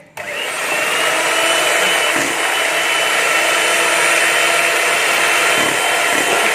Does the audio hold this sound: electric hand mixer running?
yes